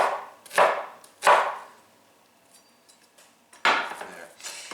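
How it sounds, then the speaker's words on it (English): A knife cuts an onion into thin strips on a board for piperade, giving three sharp, close chopping strokes with pauses between them, then a fainter scrape and a final burst of cuts. "once you can no longer stand the onion upright, flip this part over and just cut it into thin strips"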